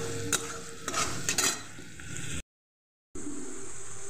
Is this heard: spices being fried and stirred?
yes